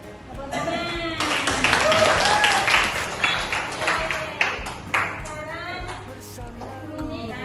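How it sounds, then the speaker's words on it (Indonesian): Audience applauding, a burst of clapping swelling quickly and then thinning out over several seconds, with voices and scattered cheers mixed in. "Tepuk tangan."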